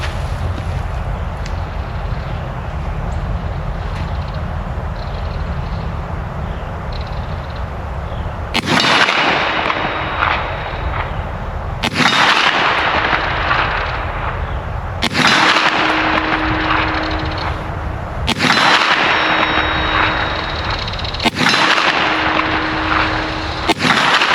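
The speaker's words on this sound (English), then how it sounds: "I'm going to test how accurately I can shoot the KelTec Sub2000 Gen 3 offhand from 50 yards" Kel-Tec Sub2000 Gen 3 carbine fired offhand at an outdoor range, five sharp shots spaced a few seconds apart, each with a long echoing tail over steady wind or background hiss.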